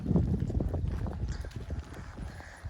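A horse gallops nearby, its hoofbeats a rapid, uneven run of dull thuds over faint background noise, fairly quiet and brief.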